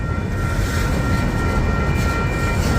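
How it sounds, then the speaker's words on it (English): A Union Pacific freight train hauling auto racks rumbles past nearby in St. Paul, a loud continuous roar of rolling cars and wheels. "There's a lot of auto racks on the 9787 here in St. Paul."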